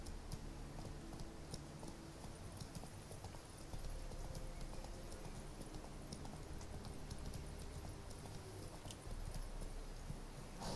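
A horse gallops in the video game Witcher 3 with steady, continuous hoofbeat clip-clop, quiet and uniform under a faint game ambience.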